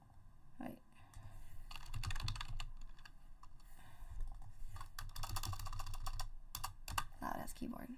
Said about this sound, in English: Loud ass keyboard.